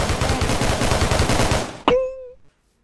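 Rapid gunfire from a gun in the Minecraft video game, a dense run of loud shots for nearly two seconds, then a sharp final crack with a ringing tail that fades out into silence.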